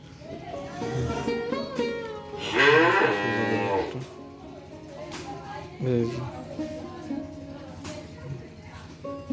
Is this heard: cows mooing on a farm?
yes